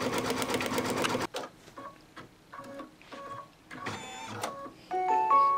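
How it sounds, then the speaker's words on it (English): An embroidery machine stitches out the cap of an acorn design on a scrubby, starting with a loud, dense run of rapid stitching, then switching to quieter, intermittent bursts of whirring and clicking with short pauses between them. "now I'm going to go ahead and stitch the cap of the acorn"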